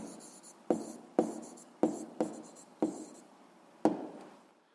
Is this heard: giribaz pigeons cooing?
no